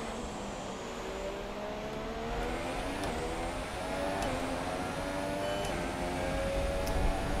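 Several Formula 1 racing cars in the F1 2017 video game at the Hungary Grand Prix, their engines whining in steady high-pitched tones that rise and shift as cars pass, with a continuous mechanical drone throughout.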